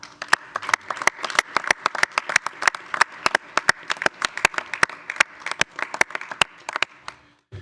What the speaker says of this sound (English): I would ask for a round of applause for all of our first responders